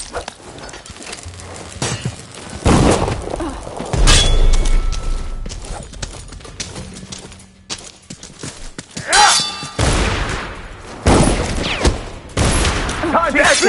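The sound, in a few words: gunfire from guards in the video game Dishonored 2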